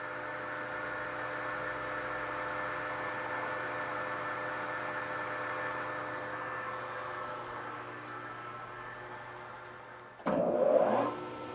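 A lathe turns a workpiece for a heavy machinery brake shoe welding fixture, cut with a Kennametal larger-radius cutter. The machine holds a steady, moderate hum, and a short, louder burst comes near the end.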